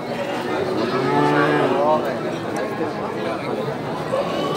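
A cow moos at a busy cattle market in Purwantoro, Wonogiri, Central Java, one long, drawn-out call heard close over a background of crowd chatter.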